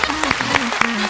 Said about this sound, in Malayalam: നല്ല സ്കിറ്റ്, ഒരു നല്ല കൈയടി.